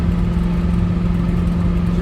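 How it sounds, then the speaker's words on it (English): The Turbago vehicle's engine runs at a steady, loud, constant drone with a strong low hum and rough mid-range rumble, close and unchanging without revving, and no voices. "Engine's running great."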